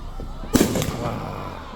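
A 4th of July fireworks display in Pikesville, Maryland, with one loud firework burst booming sharply and then rumbling away, heard alone with no talking.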